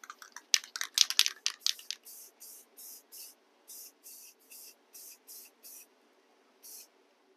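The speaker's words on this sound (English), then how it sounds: "I have this almost exact color in a rattle can, this kind of pale blue, so I'm going to use that." A rattle can of Rust-Oleum Coastal Blue spray paint is sprayed onto a masked model building, starting with quick short bursts and settling into a steady series of brief, evenly spaced hisses, quiet and close.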